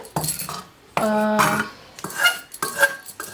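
Fried dried prawns for a Kerala-style pickle are scooped out of a kadai into a vessel, with close, bright metallic scrapes and clinks of a ladle against metal in irregular bursts and no talk.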